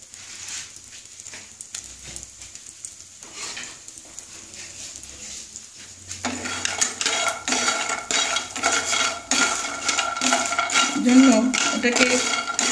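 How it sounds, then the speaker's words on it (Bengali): Lentil dumplings (bori) stirred in a wok with mustard oil, a metal spatula scraping and clattering against the pan in a quiet stretch, then a dense, busy run of rapid clinks and scrapes that continues to the end. "বড়টা নাড়তে হবে।"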